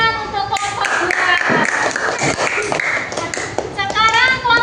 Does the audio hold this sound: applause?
yes